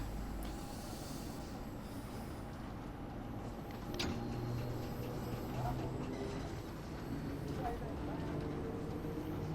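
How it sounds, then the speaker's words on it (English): Old 1972 rolling stock on a London Overground run near Kensal Green in Train Sim World 2 rumbles steadily, with wheel and rail noise throughout and brief higher squeals, while a voice speaks over it. "remember Spins, this is a 1972 rolling stock"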